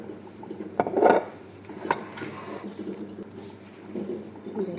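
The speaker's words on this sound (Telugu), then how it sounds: "ఇంకా సాస్ కలిపేసాను." A spoon scrapes and clinks against a dish while stirring sauce into food, with a few soft knocks and squishy mixing sounds at close range.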